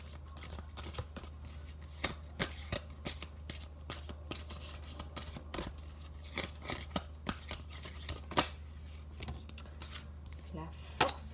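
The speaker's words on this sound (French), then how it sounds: "Je vais essayer de ne pas battre les cartes à côté du micro." Oracle cards are shuffled and handled close by, giving a steady run of soft papery slaps and flicks with sharper snaps scattered throughout, over a constant low hum.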